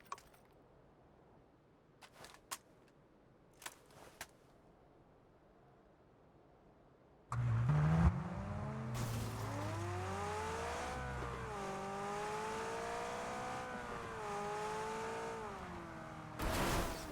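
A McLaren car engine in PUBG revs up and accelerates, a loud, rising whine that climbs and shifts pitch after a quieter stretch of faint clicks, continuing for several seconds.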